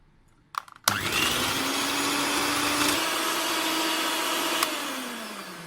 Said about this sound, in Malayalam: ഇതിലേക്ക് ബാക്കിയുള്ള പഞ്ചസാരയും കൂടെ ചേർത്ത് നമുക്ക് ഇനി ഹൈ സ്പീഡിൽ നന്നായിട്ട് ഇതൊന്ന് സ്റ്റിഫായി വരുന്നവരെ ബീറ്റ് ചെയ്തെടുക്കണം